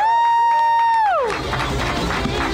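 A bright synthetic tone holds, then slides downward into a canned burst of crowd cheering and applause, lively and loud with whoops, welcoming a guest on a live podcast show.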